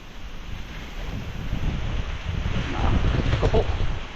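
Strong wind buffets the microphone in a continuous roaring rush that swells louder toward the end, with faint voices underneath.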